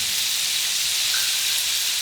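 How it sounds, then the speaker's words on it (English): Chicken pieces browning in a pan for paella sizzle in a steady, bright hiss with no pauses, close and fairly loud, with no talking. "I'm gonna brown the chicken"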